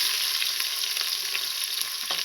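Sliced onions frying in hot oil for prawn biryani, a steady bright sizzle with occasional stirring scrapes, heard alone and fairly close.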